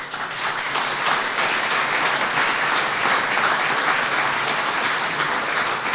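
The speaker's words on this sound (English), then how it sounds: "Let's give him a big round of applause" Sustained, dense applause from a large audience honoring a Marine veteran of World War II, Korea and Vietnam at an Honor Flight veterans event, steady and loud throughout with no talk.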